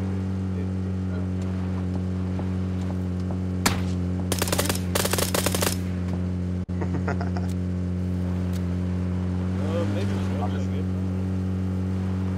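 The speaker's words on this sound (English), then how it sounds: "We're getting shot at." Gunfire in PlayerUnknown's Battlegrounds, a rapid automatic burst of several shots plus a single sharp crack over a constant loud vehicle engine drone, with players talking over it.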